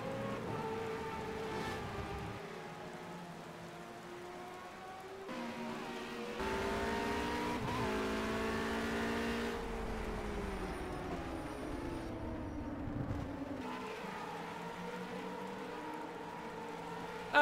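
Racing car engines rumble and rev on the starting grid of a Grand Prix, a continuous layered drone of several cars with shifting pitch, steady and fairly loud throughout.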